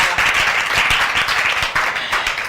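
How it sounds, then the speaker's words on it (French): A church congregation claps for a child percussionist from the Sunday school, a close, loud and dense round of many hands with crisp individual slaps standing out throughout. "On l'applaudit vraiment."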